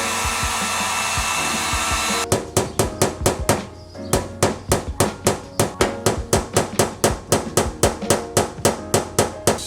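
A heat gun blows a steady whooshing drone while heating a car fender for rolling, then it stops and rapid, loud metallic hammer blows follow in a fast regular rhythm.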